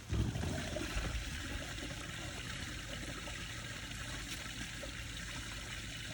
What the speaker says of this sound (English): I go to the gray water, which is all of our soapy water, and that should empty out everything else